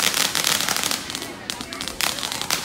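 Diwali firecrackers bursting outdoors at a temple celebration in the USA, a dense run of sharp crackling pops at moderate distance, with a brief lull before more bursts resume, and voices of a festive crowd mixed underneath.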